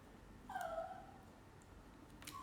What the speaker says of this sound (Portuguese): Vocês estão ouvindo meu cachorrinho chorar?